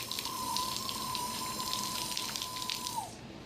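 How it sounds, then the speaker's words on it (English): Water rushing out of a Briggs & Stratton PowerBoss 8370CP pressure washer as the red release button bleeds air from the system, a steady hissing spray with a sustained whine that drops off just before the end. "We're going to release some of the water by pressing the red button to get the air out of the system."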